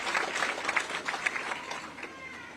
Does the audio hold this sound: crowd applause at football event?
yes